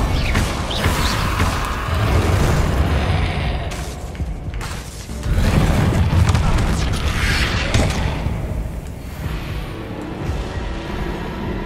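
A Confringo blasting spell detonates in a fantasy wizard video game, with heavy booming explosions and rumbling bursts that swell loudly, dip briefly, then roar again.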